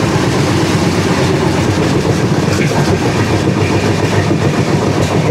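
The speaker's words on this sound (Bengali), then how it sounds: "আমাদের ট্রেন ঢুকতে চলেছে বারসই জংশনে।" The 15643 Puri–Kamakhya Express entering Barsoi Junction in Katihar district, Bihar, heard from on board as a loud, continuous rumble with rhythmic clickety-clack of wheels over rail joints, with no voices.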